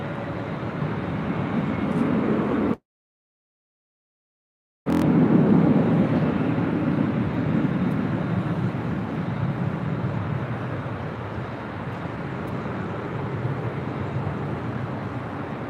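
A Delta heavy jet airliner roars down runway 24 left at LAX on its takeoff roll, a loud sustained broadband rumble with a short break, then the engine noise continues steadily and gradually eases.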